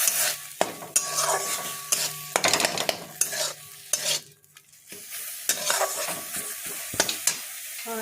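Banana stem stirred in a kadai, with repeated scraping strokes of a spatula against the pan over a steady, fairly close sizzle, several sharp clinks standing out.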